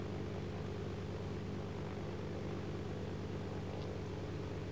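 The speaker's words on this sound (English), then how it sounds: "High plane." Steady propeller airplane drone in the video game DayZ, flying overhead near an airport, a continuous low rumble holding at even loudness throughout with no talk.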